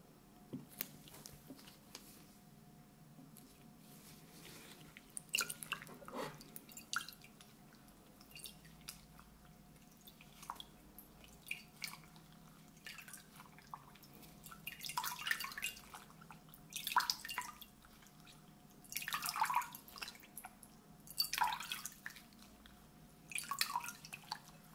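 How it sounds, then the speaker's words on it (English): Warm water dripping and squelching during a men's shave, a series of soft close wet drips and splashes scattered irregularly, becoming more frequent and clustered toward the end, with quiet pauses between. "So I'm gonna use this warm water."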